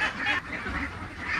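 Ducks in a new pen give soft, close, nasal quacks and honks over a brief low murmur of background noise.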